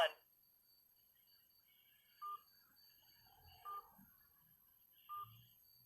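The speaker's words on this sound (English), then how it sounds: "please enter the following number on your phone's touchtone pad" Touch-tone phone keypad dialing tones, three short evenly spaced beeps at a moderate level a second and a half apart, over a faint background hum.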